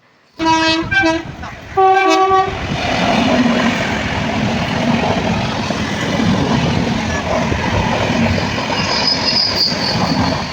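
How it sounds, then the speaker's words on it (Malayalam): A passenger train's horn blares in several loud blasts, then the train rushes past close by with a continuous roar and squealing wheels. "ഇപ്പോൾ പോയത് യാത്രക്കാരുടെ ട്രെയിനാണ് കേട്ടോ"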